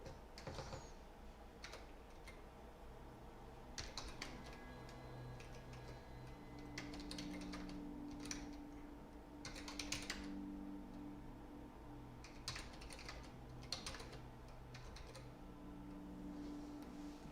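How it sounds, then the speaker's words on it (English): Computer keyboard clicking in irregular bursts of quick taps over steady background hum and game ambience, fairly faint and close. "What the heck is going on with my keyboard?"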